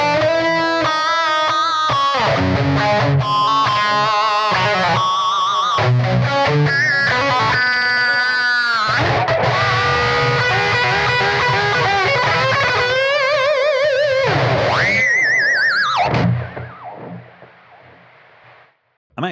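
A distorted electric guitar through a Blackstar Beam Solo pocket amp plays a metal-style riff with heavy chugging and sustained lead notes, loud and constant, then fades out near the end.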